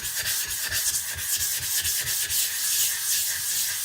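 Shapton Pro 220 whetstone being flattened, a steady rhythmic back-and-forth grinding rub, close and continuous, with no voices.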